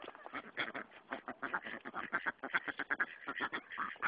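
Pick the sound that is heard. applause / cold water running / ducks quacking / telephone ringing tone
ducks quacking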